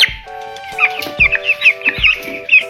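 Young broiler chickens, about fifteen days old, cluck close by in a quick run of short, repeated calls with brief gaps, over a faint steady tone in the background.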